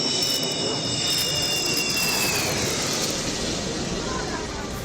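Sukhoi and Jaguar fighter jets land on a highway emergency airstrip, filling the air with a loud, continuous jet roar and a high whine that slowly sinks in pitch.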